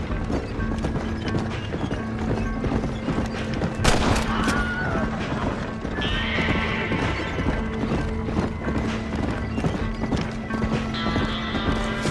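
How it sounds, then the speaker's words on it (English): Gunfire in the Red Dead Redemption video game mixes with steady hoof clip-clop and horse noises, giving a dense, continuous battle din with a few sharper, louder shots standing out. "Stop shooting at me!"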